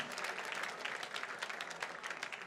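A crowd applauding steadily at a gala fundraiser, a dense patter of many hands clapping at once, fairly loud and sustained throughout with no voices.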